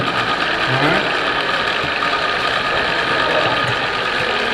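A lubricant friction test machine runs steadily and loudly up close, giving a continuous ratcheting, grinding mechanical whir with a faint hum beneath, and no pauses.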